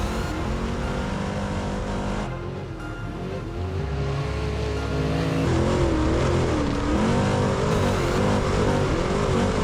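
A big-block trophy truck engine roars continuously on a desert race course, revving up and down in pitch as it races along, loud and close with no voices.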